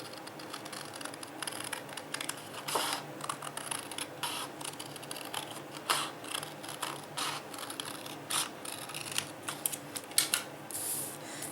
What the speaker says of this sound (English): And now I'm going to cut right through the center,